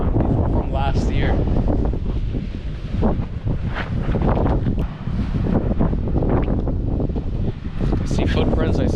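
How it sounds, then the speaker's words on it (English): Strong gusts buffet the microphone on a beach on California's Central Coast, with heavy, rumbling roar throughout, surging and easing in waves, while faint voices come through underneath. "It's incredibly windy right now."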